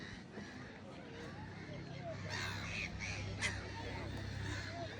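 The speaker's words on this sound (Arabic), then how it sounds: "طائر النورس ده منتشر قوي هنا." A gull calls outdoors in a park with trees, harsh cawing cries at a moderate distance that repeat a few times, while someone talks over them.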